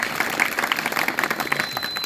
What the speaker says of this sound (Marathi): परमपूजनीय बाबाजी यांचं आपण टाळ्या वाजवून स्वागत करू